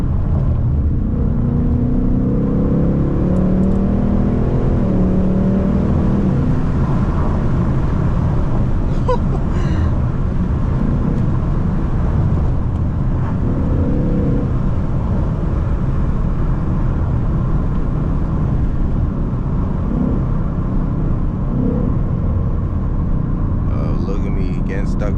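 A Ford Mustang GT drives on back roads at night, its engine a loud, continuous low rumble with a few rises in revs, while someone talks over it at times.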